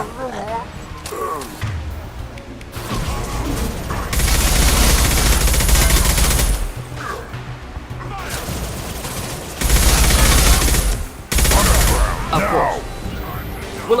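Gunfire in the video game Mass Effect 2, loud bursts of rapid shots and impacts in several clusters, with quieter stretches between them and voices talking over the combat.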